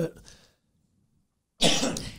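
A short, harsh cough opens, followed by a brief silence and then another burst of coughing up close.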